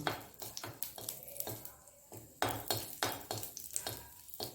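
Asafoetida frying in oil in a pan for a brinjal kosthu side dish: a quiet sizzle broken by frequent quick scrapes and taps of a stirring spoon, fairly close.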